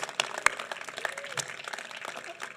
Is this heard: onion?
no